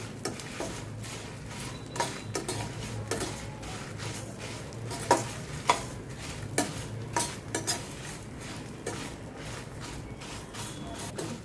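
Ingredients for a tangy mango-ginger and raw mango pickle are dry-roasted in a pan, with a spoon repeatedly scraping and clinking against the metal over a faint background sizzle, close and rhythmic.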